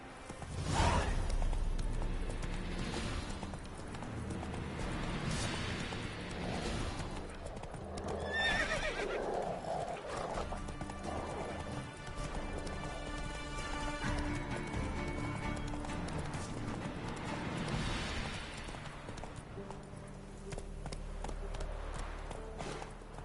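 Roach, a horse in The Witcher video game, gallops with a steady clip-clop of hooves and lets out loud neighs and whinnies, over a continuous backdrop of game music and ambience.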